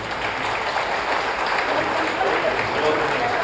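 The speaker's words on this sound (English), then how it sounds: "Let us welcome this special moment with a big round of applause." An audience claps at a school ribbon-cutting ceremony for a new pre-primary section, a continuous wash of applause at an even level throughout.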